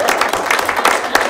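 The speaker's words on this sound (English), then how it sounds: "we need to give Amy a round of applause for everything" An audience applauds Amy with dense, steady clapping up close, loud and continuous through the whole moment with no break.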